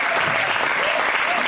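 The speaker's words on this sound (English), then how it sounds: "Let's give them a round of applause." An audience at a careers talk applauds for guests introduced on stage, a dense, steady wash of clapping that fills the whole moment at close range without a break.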